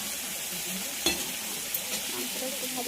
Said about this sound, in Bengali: মাংসটাকে একটু ভাজা ভাজা করে নেবো